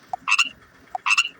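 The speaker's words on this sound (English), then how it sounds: "Frog." A frog croaks twice, each croak a short raspy burst preceded by a soft click, close and clear against a quiet background.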